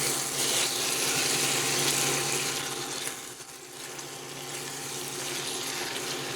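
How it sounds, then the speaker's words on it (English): Ground chuck and onions brown and sauté in a pan on a NuWave cooktop, producing a steady hissing sizzle that dips briefly midway before carrying on. "I'm browning the ground chuck. And sauteing the onions with it."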